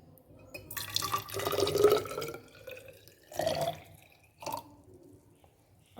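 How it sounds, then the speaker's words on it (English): Water poured into a measuring cylinder holding soil during a school lab activity, with splashing, gurgling bursts and drips that come in several separate pours and fade between them. "Now putting the water."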